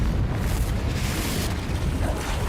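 The Confringo fire spell explodes in Hogwarts Legacy with a heavy, rumbling boom that spreads into a sustained, roaring burst of blast noise, loud and close.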